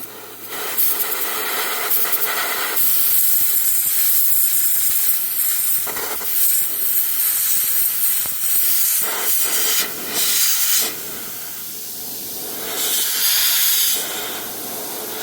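Compressed-air spray hissing into the vent of a RedMagic 9 Pro Plus phone, a loud, close, sustained blast in several long bursts with brief pauses between them.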